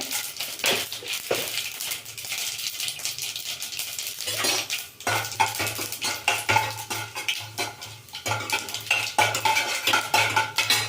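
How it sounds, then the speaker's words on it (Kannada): Mustard seeds and chana dal fry in hot oil for an ivy gourd palya, with a metal spoon clattering and scraping steadily against the pan over a soft sizzle, close and alone. "ಎಣ್ಣೆ ಕಾದಿದೆ ಸ್ವಲ್ಪ ಸಾಸಿವೆ ಸ್ವಲ್ಪ ಕಡಲೆಬೇಳೆ"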